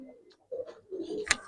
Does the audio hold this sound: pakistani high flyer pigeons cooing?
yes